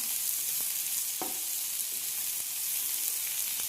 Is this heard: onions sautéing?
yes